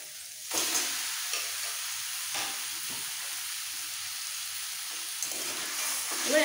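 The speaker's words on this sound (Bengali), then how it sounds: "একটু ভাজা ভাজা হয়ে গেলে দিয়ে দিতে হবে সমস্ত চিকেনের কিমাটা" Minced chicken for street-style masala momo fries in a pan, a soft close sizzle broken by several scraping stirs of a spatula at uneven intervals, with no talking.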